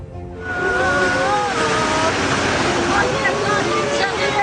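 Large sea waves on the Black Sea shore at Bulancak, Giresun, roaring as a steady, loud wash of surf with faint voices mixed into the noise.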